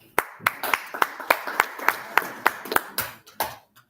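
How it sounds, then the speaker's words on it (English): Sparse, uneven hand claps from a small audience at a peace and climate presentation, a dozen or so sharp claps in irregular rhythm, fairly close and moderate in loudness, with no talk over them. "Give me a hand of applause."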